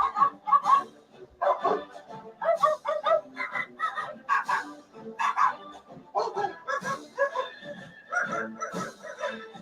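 Three dogs barking and yipping in quick, overlapping bursts, with some higher whimpering calls mixed in, close and lively throughout.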